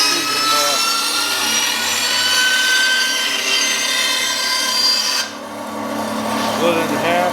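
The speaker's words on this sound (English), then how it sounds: "We're at the bandsaw. We're going to quickly cut these out." A bandsaw cuts through hickory plywood with a loud, continuous whining rasp. The tone dips briefly near the end of the pass and then the blade keeps running.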